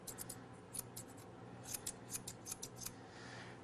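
Scissors snip poodle ear fur during grooming, a quick series of crisp, close metallic snips in short bursts against a quiet background.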